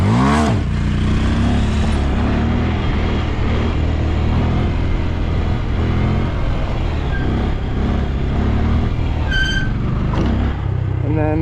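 A Honda Grom motorcycle engine roars loud and close during wheelie practice, a sustained, heavy drone with only slight swells in pitch as the throttle is held.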